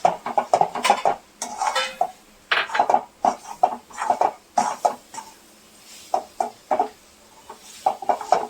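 Milk powder and sugar mixture stirred in a pan on the stove, a close series of sharp scraping and clanking strokes of a spoon against the metal pan, uneven in rhythm and separated by short pauses.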